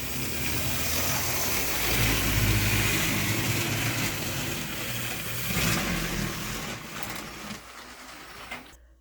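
Model train with oversized wheel flanges running on layout track, a continuous loud rumbling motor drone with rattling wheel noise that rises and falls, close by and without talk.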